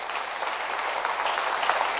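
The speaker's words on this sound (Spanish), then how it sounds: "Dele un aplauso usted también al Señor Jesús." A church congregation applauds together, giving a dense, steady burst of clapping that fills the room at close range.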